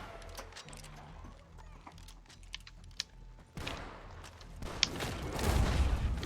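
Gunfire in the Red Dead video game, several sharp scattered shots over quiet game ambience and hoofbeats, then a louder burst of rumbling commotion and shots toward the end.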